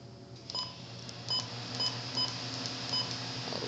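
A Midland WR120 weather radio gives a string of short, high electronic beeps at irregular intervals, fairly faint over a steady low background hum.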